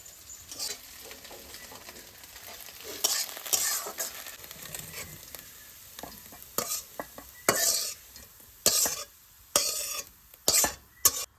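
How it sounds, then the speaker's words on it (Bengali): Food frying in a pan while being stirred, a quiet background sizzle broken by a run of sharp, irregular scraping bursts of the spatula that grow louder and more frequent, no talking. "ভাজা প্রায় হয়ে গেছে একটু পরে নামিয়ে নেব"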